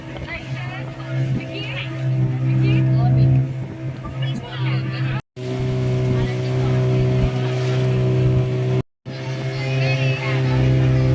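A motorboat ride off Yanam beach: a loud, close engine drone with steady harmonics and churning water, running continuously except for two brief dropouts. Voices talk over it.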